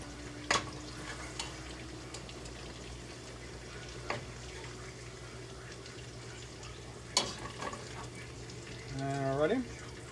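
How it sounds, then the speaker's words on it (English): Sausage crisping in a pan alongside bacon and grease, a faint steady sizzle with occasional clinks and stirring scrapes, and a brief voice near the end. "this sausage is starting to crisp up here on the edges"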